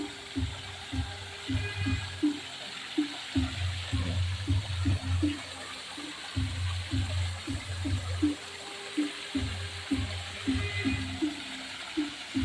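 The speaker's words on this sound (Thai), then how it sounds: "น้ำตกครับ" A waterfall at a temple in Roi Et, Thailand, a steady broad rush of water heard throughout, with a repeating mechanical thumping pattern layered over it.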